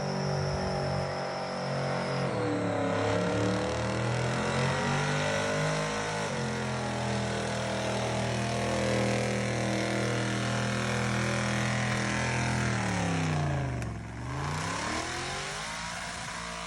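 An LS V8 engine fitted in a mega golf cart revs loud and close, its droning pitch swinging up and down in sustained pulls, with one sharp dip and recovery near the end. No one speaks.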